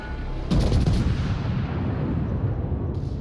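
Secondary guns of the warship Scharnhorst firing in World of Warships, a sharp burst of heavy booming shots followed by a long rumbling decay and a faint later thud, with no talking.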